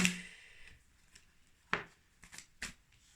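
Oracle cards drawn from a deck, with a swish at the start and then several soft, close card slides and flicks at irregular intervals in a quiet room.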